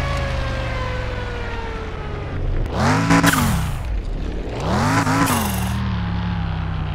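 A car engine in the Car Mechanic Simulator 2021 video game revs up twice, each rise climbing and falling back over a steady idle hum, loud and close, with no talking.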